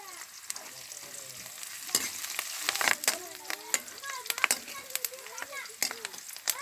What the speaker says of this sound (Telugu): ముందుగా ఆవాలు ఎర్రగడ్డలు వేసాము, బాగా వేగించుకుంటున్నాము.